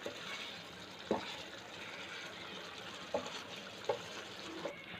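Egg biryani gravy cooking down in a pan, giving a steady soft bubbling sizzle with a few brief louder pops and stirring clicks along the way.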